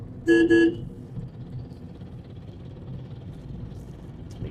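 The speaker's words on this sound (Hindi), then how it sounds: "देखिए कितनी तेज हॉर्न बजा रहा था" A car horn sounds in two short, loud honks back to back, followed by steady low traffic rumble.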